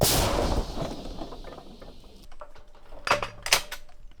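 An artillery gun fires with a loud, sharp blast that opens the clip and fades into a rumbling decay, followed by a few clattering metallic knocks near the end.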